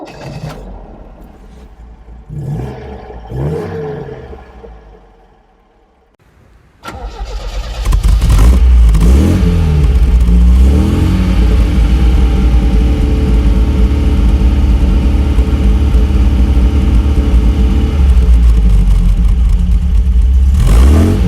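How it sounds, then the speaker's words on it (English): A 1970s MGB Roadster engine cranks briefly, catches and starts, then settles into a loud, steady running idle close by, with no talk over it. "So let's start the car up and you can hear what she sounds like."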